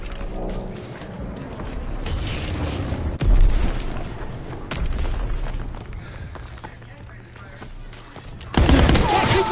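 Loud gunfire and booming blasts from Call of Duty WW2 fill the scene, with heavy impacts and continuous battle noise and a sudden strong burst near the end, while voices talk over it.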